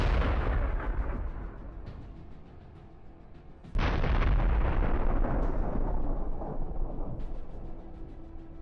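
Tank ammunition for a 125mm gun cooking off after a kamikaze drone strike in the Russia-Ukraine war: a sustained roaring rumble that drops, then a sudden loud blast around midway followed by continuing heavy booming and crackling, close and powerful.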